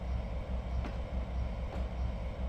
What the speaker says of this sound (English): I'm speeding our train in and out these sidings like a good one